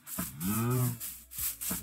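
A cow in the video game Minecraft moos once, a loud, close, drawn-out low call, followed by a few short game sounds and no speech.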